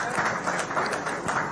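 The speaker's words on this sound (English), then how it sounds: "I think he deserves a better round of applause" Guests at the second-anniversary ceremony of Nigeria's 10th House of Representatives in Abuja applaud the Honorable Chike John Okafor, a moderate, continuous wash of clapping from a large hall crowd, partly blurred by room noise and murmuring.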